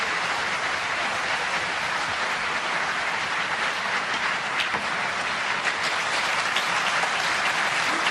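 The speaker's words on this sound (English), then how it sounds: "applause on both tables" Sustained applause from a snooker championship crowd at the World Snooker Championship, a dense, steady wash of clapping that holds evenly at a fairly loud level from start to finish with no voices over it.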